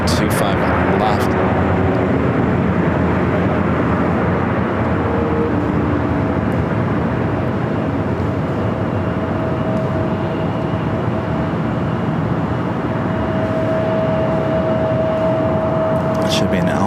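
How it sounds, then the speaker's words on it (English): A China Airlines Boeing 777 freighter touches down on runway 25 left at LAX, its steady loud broadband roar of engines and rushing air filling the whole stretch, with a faint tone running underneath. "A China 777 freighter touching down at 25 left"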